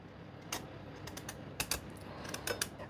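Peeling a red kuri squash (potimarron) with a knife, producing a few faint, scattered scraping and clicking strokes at close range over a quiet background, with no talking.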